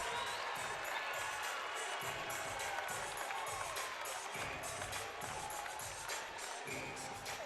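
A packed Kentucky arena crowd roars and cheers continuously at an NCAA volleyball regional final against Creighton, loud and dense, with a faint rhythmic pulse running underneath the noise.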